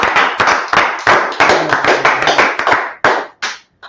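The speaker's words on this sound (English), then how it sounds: "Clap it up for the class." A group claps loudly and close by at a Purim closing gathering, striking in strong, fairly even bursts that slow and break apart into a few final separate claps.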